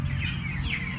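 Eleven-day-old chickens inside a closed-house poultry coop in Demak, a dense, steady chorus of many high cheeping chicks filling the space, close and continuous, with low ventilation hum beneath.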